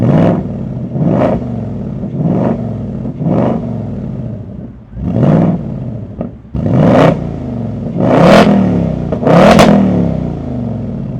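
A new Ford Mustang engine revs repeatedly in sharp, loud blips, roughly a dozen rises with growing intensity, the later revs crackling and popping on the overrun, heard up close with no talking.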